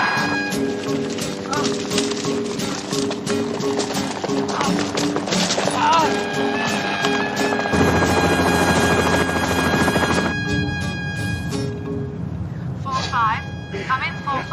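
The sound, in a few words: helicopter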